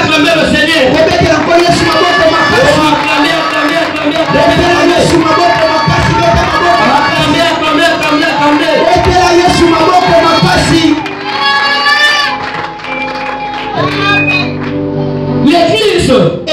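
A church congregation cheers and shouts in praise, a loud, sustained roar of voices and whoops with music underneath that drops into a quieter, broken stretch before swelling again.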